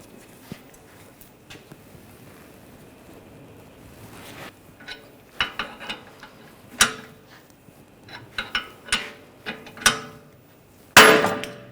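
Sharp metallic knocks and clanks as a front end tool separates the outer tie rod from the steering knuckle on a 2009-2010 BMW 535 xDrive, scattered then quickening, ending in a loud bright strike.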